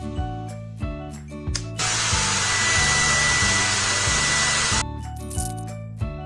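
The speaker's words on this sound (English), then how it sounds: "Turn on the hair dryer." A loud, steady hair dryer whoosh blows for about three seconds in the middle, with cheerful game music playing before and after, in the beauty salon game Sweet Beauty Salon.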